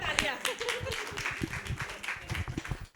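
A crowd claps in a burst of applause at a women's community gathering, sharp overlapping claps running steadily throughout with voices over them.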